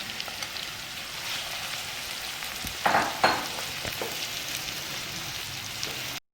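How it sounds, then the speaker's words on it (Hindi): Sliced onions frying in half a cup of oil in a pan for chicken biryani, a steady close sizzle with a few louder crackling bursts midway before cutting off abruptly. "अब हम ये स्लाइस प्याज जितने हैं वो सारे इसके अंदर डाल के हम गोल्डन करेंगे।"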